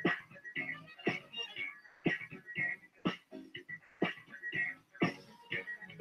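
A pet dog barks in repeated sharp bursts, roughly one per second, close and fairly loud, with a few softer yips between them.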